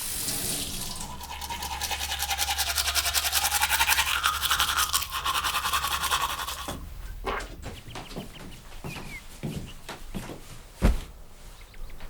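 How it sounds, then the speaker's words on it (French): A child brushing teeth with a toothbrush, a close, continuous scrubbing rasp that runs for several seconds, then gives way to quieter bathroom clatter and a single sharp knock. "Va te laver les dents"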